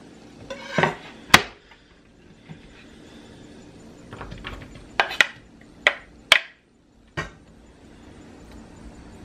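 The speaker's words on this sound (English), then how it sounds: "toss it right into my pan here" Fresh green beans tossed into a pan for frying with bacon, a few sharp clatters and knocks of the beans and utensil against the pan, separated by quiet gaps, close by and with no one talking.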